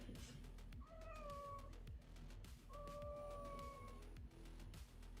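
Cat indoors giving two drawn-out meows, each a rising then falling cry, close and fairly loud over a steady low hum.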